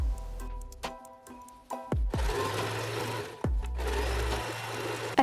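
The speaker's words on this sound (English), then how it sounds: "I'm going to stitch all the way around both the top and the bottom of the shirt with a straight stitch" A sewing machine runs a straight stitch along a shirt hem in loud, close bursts, whirring, stopping briefly and starting again several times.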